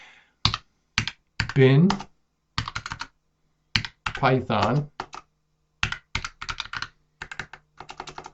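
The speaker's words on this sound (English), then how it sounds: "I am on a rampage with the typing" Rapid bursts of computer keyboard typing, crisp key clicks in quick clusters separated by pauses, alternating with someone speaking.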